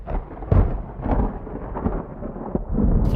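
Thunder rumbles through a rainstorm at an outdoor cooking spot where rabbit biryani is being made, with a broad, rolling low roar that swells and surges in waves over steady rain.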